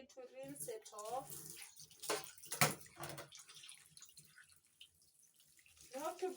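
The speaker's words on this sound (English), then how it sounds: "Then we need to rinse it off." Chicken rinsed under a running kitchen tap, soft splashing and trickling water close by with someone talking over it in places.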